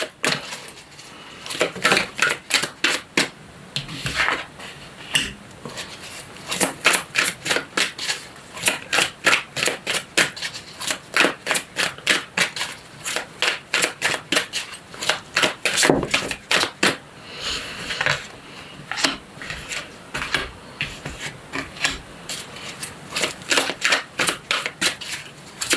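Tarot cards are shuffled and drawn in rapid, rhythmic bursts of crisp riffling and tapping, close and fairly loud, repeating steadily with brief gaps and no voices.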